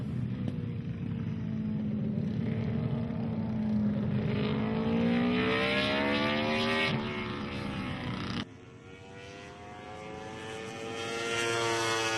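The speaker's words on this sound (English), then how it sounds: "Now it's time for Steve Parrish on the Halewood Honda to show how it should be done" A Honda motorcycle on a race track passes by at speed, its engine note climbing through the gears and then dropping sharply after a cut before revving up again, loud and continuous with no voices.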